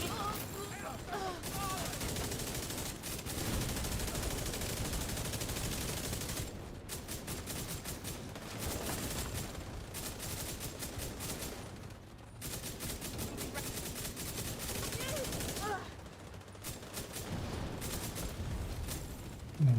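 Short bursts of gunfire from a video game shooter, fired in quick taps and repeated through a sustained stretch of loud, dense shots with brief gaps; a voice talks intermittently underneath.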